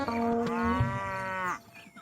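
A buffalo lets out one long, loud, close moo that rises and falls across nearly two seconds, then ends abruptly with no other sounds.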